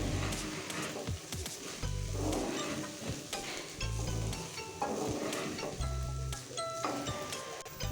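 Rice frying with biryani masala in a pan gives a steady sizzle close by, broken by repeated scraping stirs and occasional spoon clinks against the metal.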